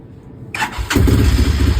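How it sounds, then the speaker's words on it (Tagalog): A Rossi Classic 255 motorcycle with a faulty ignition coil clicks, then its engine cranks and fires, settling into a loud, steady idle close by. "Tumandar na ating Rossi Classic 255"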